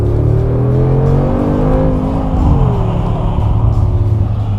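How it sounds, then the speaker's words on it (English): Mercedes-Benz G63 with a 4-liter bi-turbo V8 accelerating, heard from inside the cabin as a steady loud engine drone with rising and falling tones throughout. "This one offers a 4-liter V8 bi-turbo engine offering 585 horsepower, which sounds great even from inside the car."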